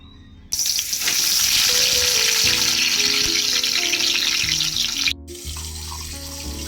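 Fish hits hot oil in a wok with a sudden loud sizzle that crackles steadily for a few seconds, then drops to a quieter frying hiss.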